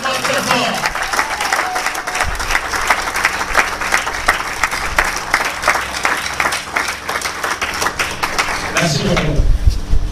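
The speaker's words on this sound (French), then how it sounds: "nous pouvons applaudir pour elle encore très fort." A political rally crowd claps steadily and loudly for about ten seconds, a dense wash of hand claps with voices mixed in, tapering near the end.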